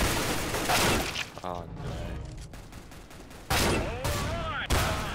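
AK rifle fire in the shooter CS:GO comes in loud bursts, first at the start and again near the end, with game noise between them and a player's brief exclamation over the action.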